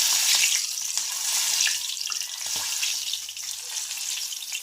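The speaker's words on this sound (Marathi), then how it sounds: "तर इथं बघू शकता मिरच्या सुद्धा छान फ्राय झालेल्या आहेत" Green chillies fry in hot oil after a batch of onion bhaji, giving a steady, fairly loud hiss and crackle that runs continuously without any talk.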